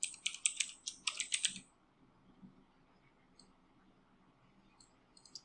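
Quick bursts of typing on a computer keyboard while writing SAS code, a run of close, crisp keystrokes at the start that stops, then a few faint isolated clicks in a quiet room.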